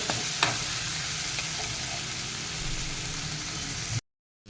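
Ginger, chilli and garlic paste sautéing in a pan for a Rajasthani papad curry, giving a steady, close hiss of frying with a few soft stirring scrapes throughout, then cutting to silence near the end.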